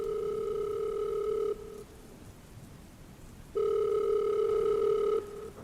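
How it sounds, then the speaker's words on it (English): A telephone ringing tone from a caller's earpiece: two long, steady electronic rings separated by a pause, fairly loud and clear, with no other sound. "the clicking sound of the phone ringing almost unbearably loud"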